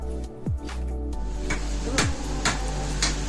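Taro leaves (kochu shak) being cut by hand, a few sharp separate chops spaced roughly half a second apart over a low steady hum, close and distinct, no talking.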